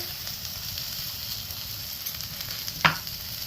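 Poppy seeds frying in a pan give a steady, soft, even sizzle throughout, with one brief sharp scrape or clink near the end.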